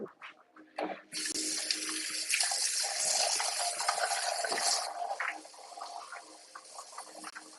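Tap water runs steadily into a container to rinse out leftover sea moss gel, a loud continuous gush for several seconds that eases off toward the end, with no talking.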